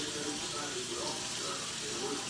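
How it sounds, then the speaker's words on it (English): Cold tap water runs steadily over cooked food in a kitchen sink, a continuous close splashing flow with no pauses. "I'm gonna run cold water on them to stop them from cooking."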